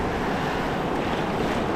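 Ocean waves on the beach at Pismo make a constant broad wash of surf and wind, near and even, with no talking.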